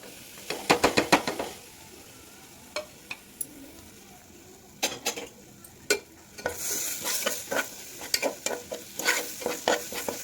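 Dry ground spices, including Kashmiri chili powder, frying in oil over low heat for khichdi dalma, with a soft sizzle and sharp scraping, tapping stirs of a spoon in the pan, close up.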